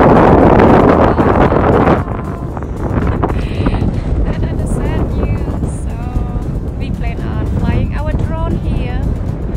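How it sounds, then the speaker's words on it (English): Heavy wind on a hike near San Francisco buffets the microphone in loud roaring gusts, easing slightly after a couple of seconds, while a person talks underneath the blustery noise. "Right now it's kind of really windy"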